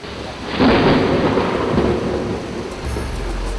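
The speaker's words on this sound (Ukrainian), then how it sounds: "Воно швидко розширюється і відбувається вибух. Грім." A deep rumble of thunder swells up and rolls on for a couple of seconds, then fades into a steady wash of rain.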